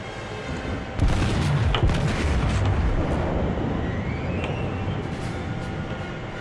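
Heavy naval guns boom in a World of Warships battle, a loud low blast at the start followed by a few more thuds over a sustained rumbling, rolling background of engine and sea noise.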